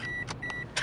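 A car's warning chime sounds as a few short, clear repeated beeps inside the vehicle, close and moderately loud with no talking.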